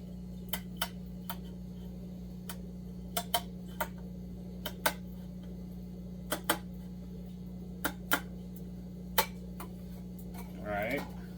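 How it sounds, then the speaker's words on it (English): Scissors trim plastic pieces for a homemade aquarium lid, making sharp, isolated snipping clicks at irregular intervals. A brief voice sounds near the end. "May have to do some trimming off with a pair of scissors."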